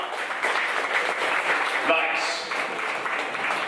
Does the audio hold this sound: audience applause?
yes